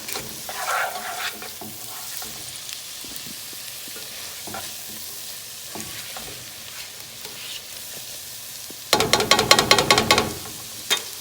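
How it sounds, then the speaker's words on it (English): Seasonings stirred into a pot of potato soup with carrots: soft scattered spoon scrapes and stirring sounds, ending in a burst of rapid, louder clattering strokes. "we stir all those seasonings up"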